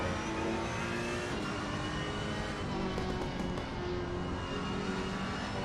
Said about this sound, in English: We're riding with the number 27 Ferrari right now.